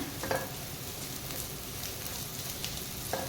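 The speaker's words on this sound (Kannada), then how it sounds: "ಇದನ್ನೀಗ ಫ್ರೈ ಮಾಡ್ಕೊಳ್ಳೋಣ" Garlic cloves fry in a pan with a quiet, even crackling sizzle close by. Two brief utensil clinks stand out near the start and the end.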